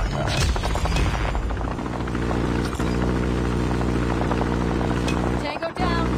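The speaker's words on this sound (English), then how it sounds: "Deploy chopper gun." A chopper gun helicopter in a Call of Duty Mobile multiplayer match thrums with steady rotor chop and engine hum, loud and continuous, with bursts of gunfire and game effects layered over it.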